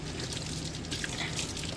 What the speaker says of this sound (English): let's put some water in it. Put some water in it.